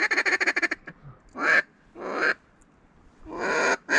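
Black ducks on a sea hunt in Nova Scotia: a rapid run of close wingbeat-like bursts at the start, then several loud quacking or honking calls spaced over a few seconds, with no talk.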